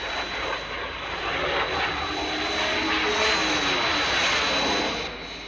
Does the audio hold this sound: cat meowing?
no